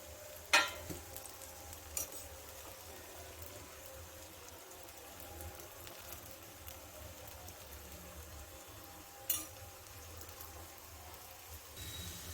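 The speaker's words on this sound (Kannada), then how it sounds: "ಎರಡು ಕಡೆನೂ ತಿರುಗಿಸಿ ಚೆನ್ನಾಗಿ ಫ್ರೈ ಮಾಡ್ಕೋಬೇಕಾಗತ್ತೆ." Raw banana slices frying in a pan, a soft low sizzle running steadily with a few sharp knocks of a turner or ladle, faint and no speech.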